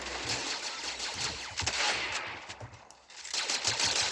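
Rapid automatic gunfire from a weapon in the video game Fortnite rattles in fast bursts with a brief lull midway, moderately loud and alone.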